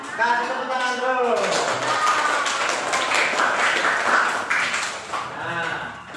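Classroom applause from pupils at a school, a burst of clapping that runs for several seconds, with voices talking over it near the start and again at the end.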